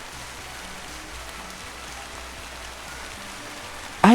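Steady rain makes a continuous, even hiss that holds at one level throughout. A short, sharper burst cuts in at the very end.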